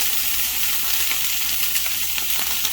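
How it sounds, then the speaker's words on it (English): Rice sizzling steadily in a hot frying pan for fried rice with bacon and stir-fried vegetables, a dense, even crackle with small pops, close and continuous, with no voices. "So we'll go ahead and add the rice to the frying pan."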